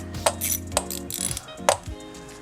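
A ratchet loosens a 10 mm bolt on the valve cover of a Lexus GX470 with the 4.7L V8, giving a few sharp metallic clicks and short ratcheting runs up close.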